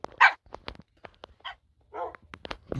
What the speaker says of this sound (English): 32 dogs.